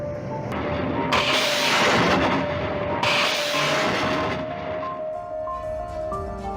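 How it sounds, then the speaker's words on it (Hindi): Russian MLRS rocket artillery strikes on a frontline in Ukraine make a sustained roaring rumble with two heavier surges, then fade to a lower continuous drone and a steady tone, heard from a distance. "ईस्टर्न फ्रंटलाइन पर रूस के MLRS हमले, यूक्रेन के कई मोर्चों पर रॉकेट से तबाह कर दिया गया"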